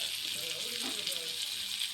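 Butter sizzles steadily in a pan on a low flame for mushroom gravy, a close, even hiss with a faint stir or voice underneath.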